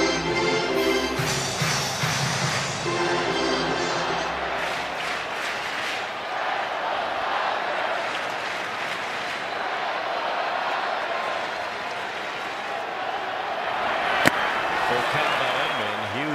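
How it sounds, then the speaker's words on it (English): A sellout crowd at Dodger Stadium makes a continuous roar of noise during a Dodgers–Yankees baseball game, with a broadcaster talking over it and a sharp crack standing out near the end. "Huge crowd sellout here tonight, making a lot of noise."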